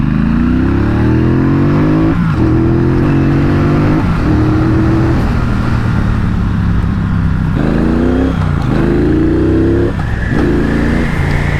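A Triumph Bonneville Bobber motorcycle engine with a stock exhaust revs up and down repeatedly, loud and close, the pitch rising and dropping with each throttle change.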